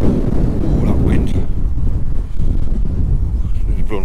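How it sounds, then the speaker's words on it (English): A strong gust of wind buffets the microphone at Penshaw Monument, the hilltop landmark near Sunderland. It makes a loud, low rumbling roar that eases briefly midway, then surges again. "Gust of wind, yeah, blown us off our feet."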